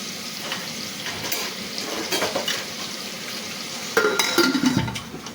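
Food is stirred in a pot of sizzling onions and salt on a gas stove, a steady frying crackle with brief scraping stirs and a louder burst of clatter near the end.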